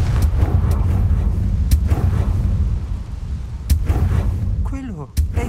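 Confringo fire-blast spell going off in Hogwarts Legacy, a dense booming burst with sharp cracks over a rumbling low roar, followed by a brief swooping whistle near the end.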